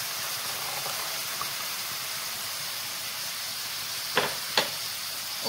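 Tomato sauce sizzling over fried mushrooms in a pan gives a steady, close, hissing fry throughout, broken near the end by two brief sharp spatters or clicks.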